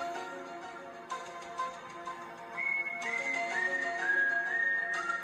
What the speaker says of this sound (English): I'll call you back in a minute, whoever's ringing me.